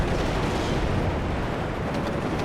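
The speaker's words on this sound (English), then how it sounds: "that was some big explosions right there." Heavy, continuous rumbling blasts of big explosions in the video game WARNO, loud and dense, rolling together without clear gaps and no voices.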